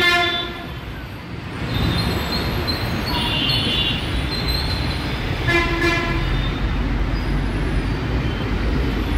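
Metro train passing beside a 200-foot road in Habsiguda, a loud, steady rolling roar with high whistling squeals and brief tonal horn-like notes, close and continuous throughout.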